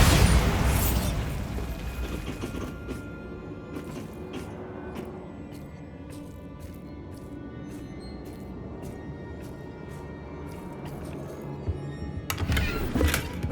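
A Bombarda blasting spell erupts in Hogwarts Legacy, a loud opening burst that fades into a long rumbling debris tail with scattered sharp cracks and clicks, then a second louder swell near the end.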